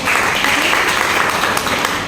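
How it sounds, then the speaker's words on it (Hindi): Audience applause at a Teachers' Day celebration in a B.Ed. department, honouring a student named Sakshi: dense, steady clapping throughout, loud and continuous with no clear gaps. "तो इसके लिए साक्षी के लिए भी तालियां जरूर।"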